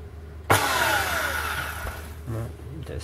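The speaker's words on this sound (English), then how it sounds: "now I will show you that it's running and working with our new armature" A Hilti TE 505 motor test-runs with its new armature, starting with a sharp click and then a steady, fairly loud whirring hum that winds down toward the end.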